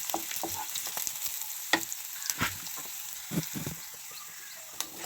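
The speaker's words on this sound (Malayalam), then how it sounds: "കടുക് വറുത്തതിന് നല്ല ഗോൾഡൻ കളറായി" Mustard seeds fry in a small pan for sambar, giving a steady hiss broken by sharp pops and crackles, and a few louder bursts stand out.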